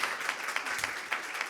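An audience at a business investment showcase event claps briefly, a soft, moderately dense patter of many hands at a fairly low level.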